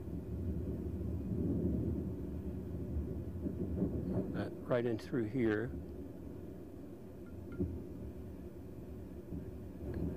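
Time-compressed infrasound from a space shuttle breakup, sped up into audible range: a cluster of rising and falling warbling bursts in the middle of a steady low rumble, with someone talking over parts of it.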